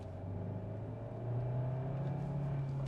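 A 2022 Kia Sorento plug-in hybrid accelerates in sport mode in second gear, its engine droning with a steady rising hum heard from inside the cabin, quiet and smooth with no talking.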